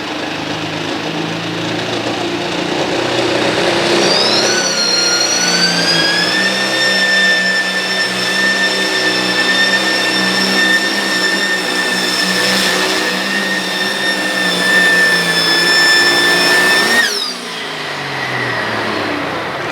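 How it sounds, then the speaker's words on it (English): A John Deere tractor in the light limited turbo class at a county fair tractor pull, screaming at high revs with a loud sustained whine that climbs and holds for many seconds before a sudden drop near the end. "Rusty Tanner of Madison, Virginia, up next with his second chance John Deere."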